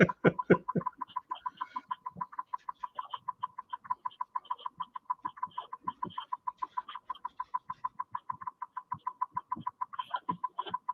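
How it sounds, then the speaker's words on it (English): A pet woodpecker calls in a long, rapid series of sharp, evenly spaced chirps, close and fairly quiet, with a few lower knocking sounds mixed in. "Dre's got a woodpecker"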